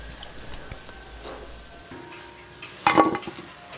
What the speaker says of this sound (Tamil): அடுத்தடுத்த பேட்சை நம்ம இது மாதிரி போட்டு போண்டாக்களை பொரிச்சு எடுத்துட வேண்டியதுதான்